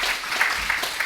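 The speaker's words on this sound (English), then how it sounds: "Don't everybody clap at once." Audience applause at an annual meeting: a short, steady patter of many hands clapping at moderate volume, with no pauses.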